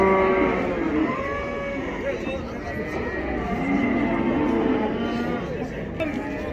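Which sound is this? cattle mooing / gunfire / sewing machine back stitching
cattle mooing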